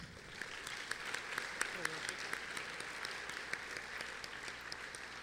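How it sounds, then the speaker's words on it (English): Faint, scattered clapping from an audience at a high school senior awards ceremony, distant and thin, with a murmur of background noise throughout. "We can clap after each one."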